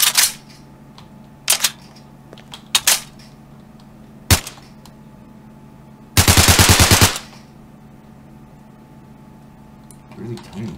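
Upgraded guns fire in Garry's Mod: several short separate shots over a low steady hum, then a loud sustained burst of rapid automatic fire lasting about a second, with a faint rustle at the end.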